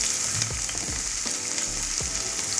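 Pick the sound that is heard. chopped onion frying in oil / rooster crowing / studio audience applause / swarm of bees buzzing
chopped onion frying in oil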